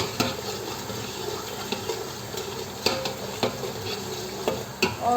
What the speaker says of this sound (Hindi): और टमाटर जो है इनको हम लोग क्रश कर रहे हैं चम्मच के साथ ही।